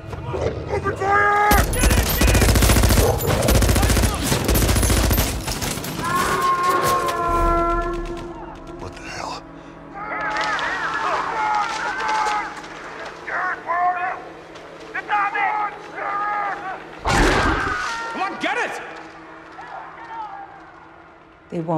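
Soldiers firing on a giant wolf in a Rampage (2018) action scene, a dense burst of loud rapid gunfire up front, then scattered shots among shouting voices, roars and a sustained tonal wail.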